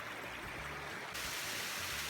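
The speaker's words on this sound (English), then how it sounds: "So we found a little waterfall." A small waterfall in a rainforest gives a steady, close rushing of falling water, broadband and continuous throughout with no voices over it.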